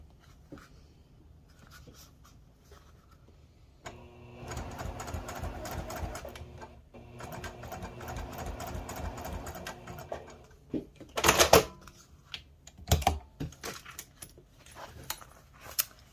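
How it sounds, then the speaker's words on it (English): Sewing machine with a zipper foot stitching a zipper onto fabric, a steady mechanical whirring run lasting several seconds after a quiet start, followed by sharp clicks and handling rattles. "I like sewing with a zipper foot to the edge of the fabric, and I'm just going to go ahead and sew it all the way down"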